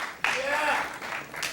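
Studio audience on The Tonight Show in 1985, a steady wash of applause breaking in suddenly and holding at moderate level, with voices mixed into the crowd noise.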